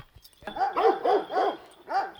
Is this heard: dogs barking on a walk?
yes